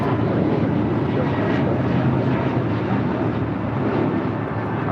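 A Boeing 747 taxies across the south runways at LAX toward taxiway Alpha, a steady, loud, broadband jet roar with deep low rumble that holds constant throughout, with no pause or break.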